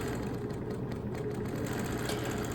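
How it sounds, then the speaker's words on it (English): A computer quilting machine stitches a Cardinal motif, running as a steady, quiet mechanical hum with fast regular stitching beneath, unbroken throughout. "Here is the machine, computer quilting, the Cardinal motif."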